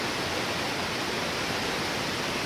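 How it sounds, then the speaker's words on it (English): A waterfall on the Collins Gulf loop trail, below a bluff wall among slick rocks, roars as a dense, constant wash of falling water, loud and unbroken, with no voices over it. "This is the most impressive waterfall I've seen so far."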